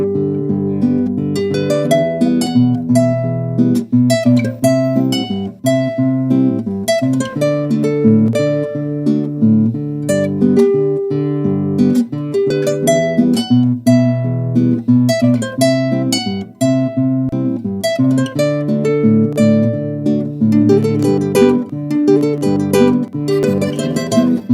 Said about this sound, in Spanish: Vamos a comenzar con este requinto